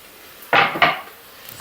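Fenugreek leaves being stirred into dal in a pot, two quick scraping knocks of a spoon against the vessel close by, then quiet.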